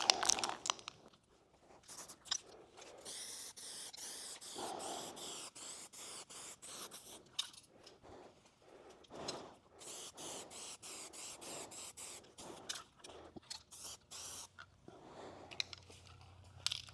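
Spray gun laying a full wet coat of paint during auto bodywork, heard as a steady, fairly faint hiss in long passes broken by brief pauses, with no voices.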